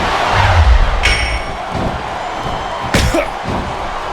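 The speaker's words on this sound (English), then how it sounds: "Now the fans start to cheer for him." A video-game wrestling crowd from WWE SmackDown vs Raw 2008 roars continuously, with heavy thuds and slams of in-ring impacts cutting through, loud and close.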